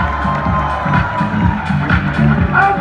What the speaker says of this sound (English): And the champion for the second Sangram Classic 2019 with a big round of applause, Manurag Navi!